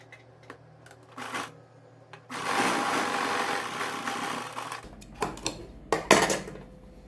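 A sewing machine stitches the side pleats of a kurti in short bursts of rapid mechanical clatter, then one longer steady run, then more brief stop-start stitches, with a faint motor hum between.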